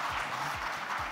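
At a political summit, an audience claps in a brief burst of dense, even applause, heard at moderate level without any voices over it.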